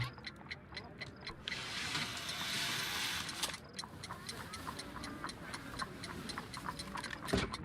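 A homemade bomb ticks steadily in a Sherlock Holmes video game, a regular clock-like beat running throughout, briefly covered by a burst of broadband noise early on.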